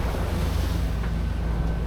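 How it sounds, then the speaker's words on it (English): Steady, loud rush of wind and surging sea water from big ocean waves, wind against current, a dense low roar with no clear breaks, out on open rough water. "There's some big waves now"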